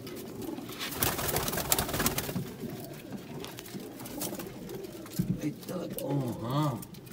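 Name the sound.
Sialkoti pigeons cooing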